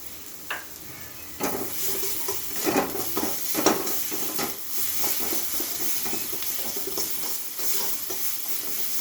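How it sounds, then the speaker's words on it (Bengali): Masala with turmeric and salt sizzles and hisses in a pan, starting quiet and then swelling into a loud continuous fry with repeated scraping stirs and occasional utensil knocks, with no voices. "এবং মশলাটা আমার সুন্দর কষানো হয়ে গেছে।"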